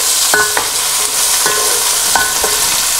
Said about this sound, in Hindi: और इसको जो है थोड़ा सा चमचा चला लेंगे इसका।